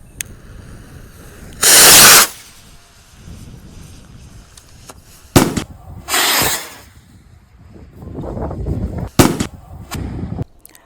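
A firecracker at a Ganesh idol event is lit and set off, with loud hissing bursts of sparks and sharp cracks recurring several times at close range over quieter rustling.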